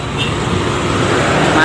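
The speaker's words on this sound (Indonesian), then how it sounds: "datang lagi Sinar Jaya 2RD dengan rute Cepu Merak, body jetliner" A Sinar Jaya 2RD bus with a Jetliner body on the Cepu–Merak route rolls past on a congested road, a steady loud engine and road rumble with a voice talking over it.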